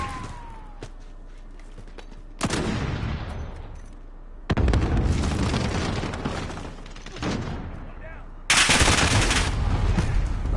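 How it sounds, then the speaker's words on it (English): Gunfire and grenade blasts from Call of Duty: Modern Warfare multiplayer come in loud broadband bursts, with sustained rattling volleys, sudden booms and a final heavy burst, and no talk over them. "Flashbang out."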